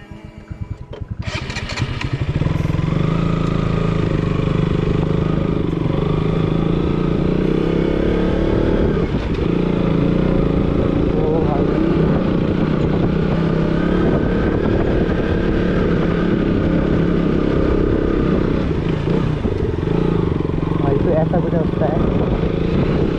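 A motorcycle rides a rough, partly unpaved hill trek road near Mukteshwar in Uttarakhand, its engine droning steadily and loudly close by for the whole stretch, with voices talking over it.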